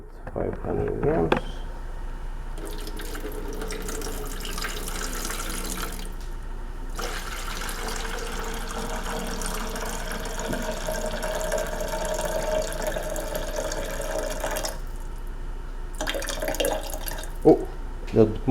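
Water pours from a can into a bucket for mixing Mapei self-leveler, a steady splashing stream running for most of the clip with short pauses and a few drips at the end; someone speaks briefly at the start.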